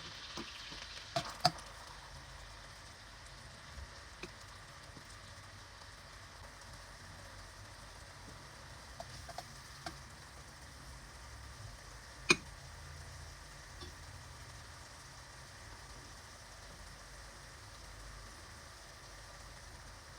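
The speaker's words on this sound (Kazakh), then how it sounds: "Еріген сары майымызға пиязымызды салып," Onion frying in melted butter for a lentil puree soup, a steady faint sizzle running throughout with a few soft clicks of stirring.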